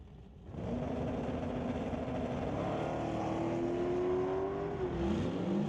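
Two drag racers launching side by side, the Rad Torque Systems Cold Front S10 against the Chev Stang, in a bracket race; engines roar up from near silence into a steady, loud rising drone with sweeping pitch.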